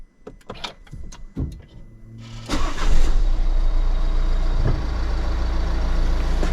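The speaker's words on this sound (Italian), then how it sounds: "Ok, la macchina è partita." A Nissan Qashqai J11 with the 1.6 dCi diesel, just fitted with a new fuel filter, gives several sharp clicks, then cranks and fires up abruptly and settles into a steady, close idle.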